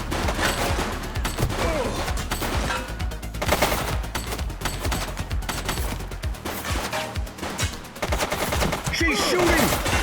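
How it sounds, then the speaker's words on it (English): Dense, sustained automatic gunfire and rapid bursts of shots fill a police shootout in The Precinct video game, loud and close, with occasional impacts and a brief voice under the barrage. "She's shooting!"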